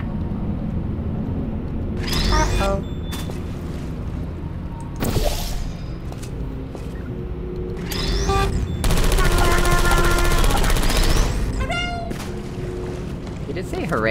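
Automated turrets firing inside a test chamber in the video game Portal 2, bursts of rapid mechanical gunfire mixed with pinging electronic chirps, loud and close over a constant low hum.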